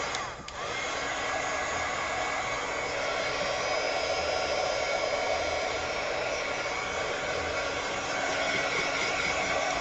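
A hair dryer drying a wood pumpkin craft roars steadily and loudly up close, a constant whooshing blast with no breaks.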